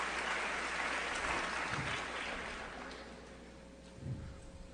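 Audience applause at the Scripps National Spelling Bee, a broad wash of clapping filling the hall, steady at first and then gradually thinning and fading toward the end.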